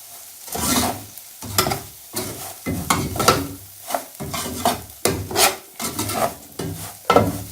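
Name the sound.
stirring semolina in ghee with a spoon for halwa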